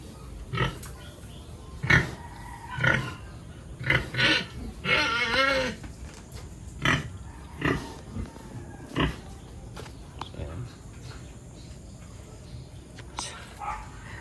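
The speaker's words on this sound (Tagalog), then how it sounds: "Sinakyan talaga ni Maria yung baboy niya dito, oh" Pregnant young sow on a farm, grunting in short irregular bursts close by, with people talking around her.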